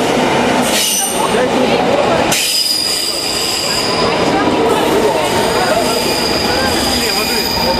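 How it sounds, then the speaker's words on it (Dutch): Berlin metro train arriving at a station, loud metallic wheel squeal and rumble of rail cars rolling in close by, with a brief pause before the squealing continues. "Daar komt de metro!"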